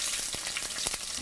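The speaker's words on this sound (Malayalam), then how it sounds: "ഇനി ഇതിലോട്ട് നമ്മൾ ചതച്ചു വച്ചിരിക്കുന്ന ചെറിയ ഉള്ളി," Crushed shallots tipped into hot oil with crackling fenugreek seeds for a sardine curry, giving a steady, close sizzle dotted with sharp pops and crackles throughout.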